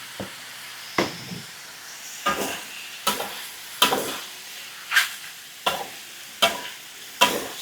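Salted mustard greens stir-fried in hot oil, with regular bursts of loud sizzling as the spatula turns the greens about every second, each hiss swelling and fading, close up with no talking.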